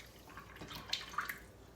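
Jerky marinade poured into a plastic tub gives quiet, close liquid splashing and a few small drips, soft and brief with no talking.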